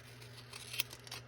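Scissors cutting across tape on a book, a single soft snip near the middle of a quiet stretch with a low hum beneath, close and faint.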